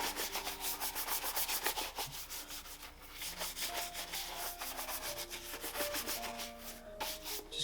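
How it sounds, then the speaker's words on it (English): Quick, rhythmic brushing of leather Mezlan shoes after cream polish and before waxing, close and fairly quiet, with repeated short bristle strokes running continuously. "Just giving these a quick brushing before we apply some wax"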